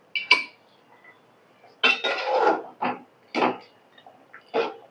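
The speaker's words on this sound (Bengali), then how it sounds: "এখন আমি মাংসটা অন্য একটি পাত্রে ট্রান্সফার করে নেব।" Cooked beef and potatoes from a chui jhal beef curry are moved into another pot, with a series of separate metal clanks and scrapes of utensil against cookware, close and fairly loud, with short pauses between.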